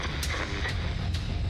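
A missile turret fires in the strategy game Warpips, three quick booming launches spaced roughly half a second apart over a dense background of in-game battle noise.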